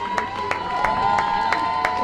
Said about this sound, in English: Gets cheered on by her side